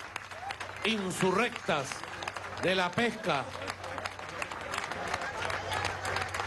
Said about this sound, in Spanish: Un aplauso a los pescadores